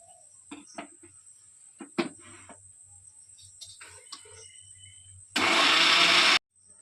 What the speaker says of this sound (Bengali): এবার আমি মিক্সিতে পেস্ট করে নেবো